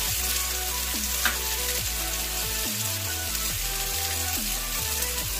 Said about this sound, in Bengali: আদা রসুন বাটাটা কড়াই দিয়ে দিচ্ছি।